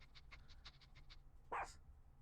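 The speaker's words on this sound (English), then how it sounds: "Chief Inspector said woof to that" A dog character in The Great Ace Attorney video game sniffing in a quick series of short, evenly spaced snuffs, then letting out a single louder woof near the end, with no voices and faint background.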